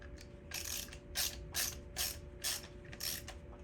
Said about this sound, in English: Ratcheting.